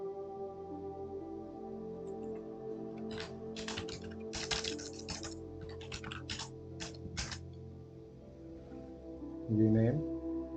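A computer keyboard clatters in a quick burst of keystrokes as a Linux command is typed, the clicks sitting over a steady low background hum, then a short sound rises near the end.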